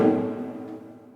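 A struck drum membrane, the second of two drums with identical shape, gives one resonant hit with a dense low-mid body that rings and slowly decays over about a second, alone and fairly quiet.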